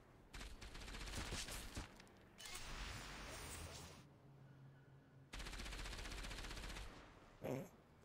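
Enemies open fire in the video game Enslaved: Odyssey to the West, with rapid automatic gunfire bursting in several long stretches, broken by quieter gaps and a short sharp burst near the end, faint and in the background.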